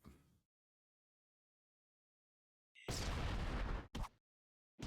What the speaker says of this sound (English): I think it's time to try a hand grenade